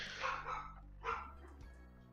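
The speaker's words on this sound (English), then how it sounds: "You hear them dogs barking?" Dogs bark a few times at a distance, two or three short muffled woofs over a steady low hum, fairly faint, with no talking.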